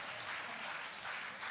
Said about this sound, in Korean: 찬양의 열기에 비해서 박수가 조금은 부족한 것 같은데